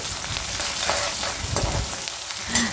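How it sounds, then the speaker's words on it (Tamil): Onion and green chillies sautéing in a pan for biryani, a steady loud sizzle with scraping stir sounds throughout, no voices. "நல்லா வதங்கினதுக்கப்புறம் வெங்காயம் பச்சை மிளகாய் ரெண்டையும் போட்டு வதக்கிக்கோங்க"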